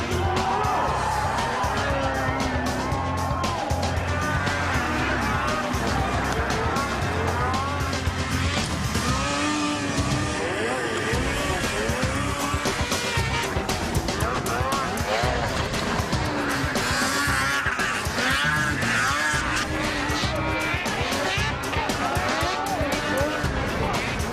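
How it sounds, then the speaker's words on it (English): Finely tuned snocross racing snowmobiles roar past at speeds upward of 70 mph, engines rising and falling in pitch as machines pass one after another, loud and constant, with a narrator's voice running over the noise. "Speeds upward of 70 miles an hour are no challenge for these finely tuned racing machines."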